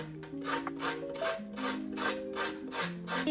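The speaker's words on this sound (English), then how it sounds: "We will add a little bit of the zest." A lemon is rubbed against a zester in steady, rhythmic rasping strokes, about a dozen quick scrapes, close and quiet, with soft background tones behind it.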